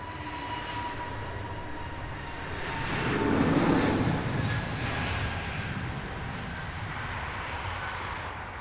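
An airplane at Heathrow Airport passes with a broad, steady engine roar that swells to a peak midway, then settles back to a constant drone, with no voices present.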